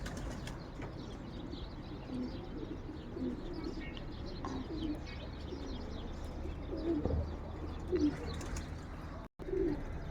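Pigeons coo repeatedly in soft, low, rhythmic calls against faint background chirps, with brief wing flutters, fairly close and moderately quiet.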